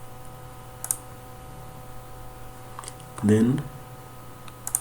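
Computer keyboard typing during work in an architectural design program, a few sparse, light clicks and taps scattered over a quiet hum, with a brief spoken word from a man.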